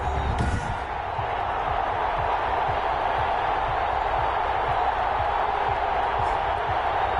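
Steady roar of a stadium crowd at a Jets versus Saints football video game, a dense, continuous wash of cheering that stays loud and even throughout with no pauses.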